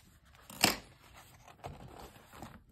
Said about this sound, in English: So let me get my scissors.